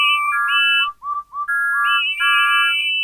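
Toy-like steam engine whistles in a children's railway story, a quick chorus of bright overlapping toots and rising whistle calls, loud and close, repeating in two clusters.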